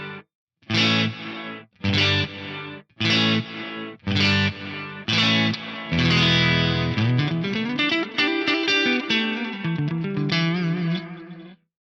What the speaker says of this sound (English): You get this kind of like roomy, diffuse, pseudo reverb kind of sound